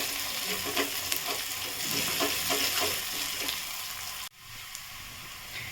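Small chopped green chilies frying in a pan for samosa filling, a loud bubbling sizzle with rhythmic stirring strokes that cuts off abruptly, leaving a quieter tail.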